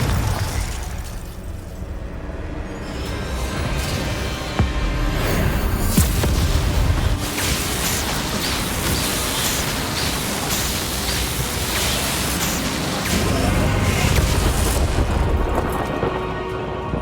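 Fire spell explosions from Confringo casts in the video game Hogwarts Legacy, a dense run of loud booming bursts layered over a continuous roaring wash of noise that surges and swells for the whole stretch, with no speech.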